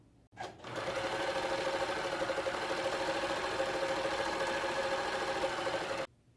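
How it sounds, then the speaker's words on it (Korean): Sewing machine stitching a 1 cm seam on a child's buckwheat pillow: the motor starts with a click and runs in one steady, even whir of rapid needle strokes for about five seconds before stopping abruptly. "1cm 시접으로 박음질을 한번 해주면 완성이에요"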